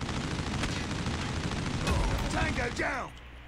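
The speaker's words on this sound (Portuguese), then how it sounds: "Vamos meter metranca com essa arma aqui" Rapid automatic gunfire in Call of Duty Mobile, a steady dense rattle of shots that runs for about three seconds, then stops as someone speaks excitedly over the end.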